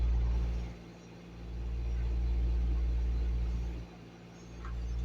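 A car engine idling to run the air-conditioning compressor, a close, steady low rumble that swells and dips twice as the load changes.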